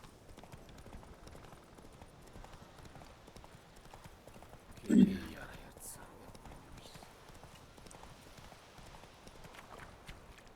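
Roach the horse gallops in The Witcher 3 video game, fast hoofbeats running steadily under a game soundtrack, with a single louder burst midway and a person speaking at times.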